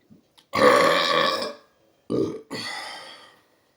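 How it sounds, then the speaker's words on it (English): Two loud, close burps, one long and drawn out and a shorter one broken in two, from a man with congestion, with silence in between. "you're trying to burp loud"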